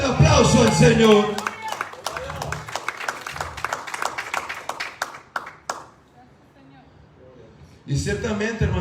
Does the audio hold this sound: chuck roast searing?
no